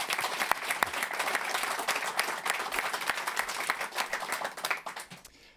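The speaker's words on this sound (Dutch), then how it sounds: "Mag ik een warm applaus?" Warm applause from an audience at a Dutch lectorate inaugural lecture on forensic traces: dense, steady clapping with sharp individual claps, sustained at even loudness before quickly fading out at the end.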